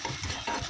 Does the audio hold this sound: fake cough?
no